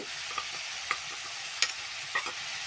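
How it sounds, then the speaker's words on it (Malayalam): A spoon scrapes and stirs turmeric, chili powder, coriander powder and garam masala in a pan for a chicken parts dish, giving a steady soft sizzle with a few sharper scraping strokes, fairly close. "ഗരം മസാല എല്ലാം കൂടിയിട്ട് നല്ല പോലെ ഒന്ന് ഇളക്കാം"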